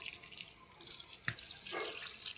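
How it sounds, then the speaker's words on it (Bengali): Tap water runs over cut green jackfruit to rinse off its sticky sap, a steady close splashing stream with a few brighter drips and splashes as the fruit is handled. "আঠাগুলো ভালো করে জল দিয়ে ধুয়ে কাটলে হাতেও লাগবে না"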